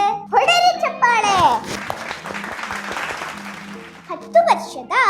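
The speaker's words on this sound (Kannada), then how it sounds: "ಹೊಡೆರಿ ಚಪ್ಪಾಳೆ" Children applaud in a broadband burst of clapping that rises and holds, with young voices calling and chattering over it at the start and end.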